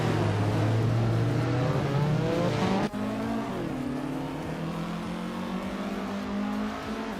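A 1964 Austin Mini Cooper S races in a pack of other cars, engines droning steadily and loudly with a sharp click midway, the revving pitch shifting slightly as the cars jostle for position.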